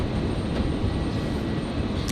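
An Airbus A320neo airliner approaching runway 01 right at Brisbane International: a brief, steady wash of engine roar and rushing air, moderately loud and unbroken, with no voices.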